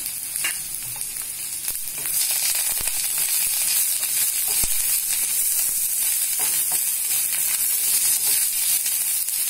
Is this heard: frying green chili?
yes